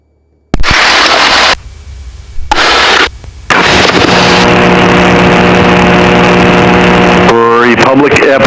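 A Cessna 152 engine starting up: a sudden loud burst, sputter and brief dip, then a steady, close, droning propeller-engine roar with a loud rising whine near the end.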